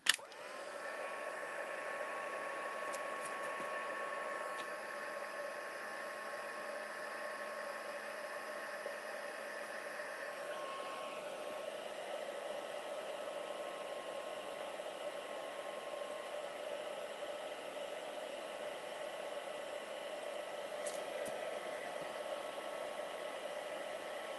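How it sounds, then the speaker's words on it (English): Heat gun warming up for card making, a steady, continuous whooshing blower hum with a faint tonal whine, sustained and even throughout with no talking. "So I'll heat my heat gun."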